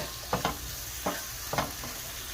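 Chopped onion sautéing in a pan for Cheesecake Factory–style chicken Madeira, with a soft steady sizzle and a few scraping stirs of a utensil at irregular intervals, no talking.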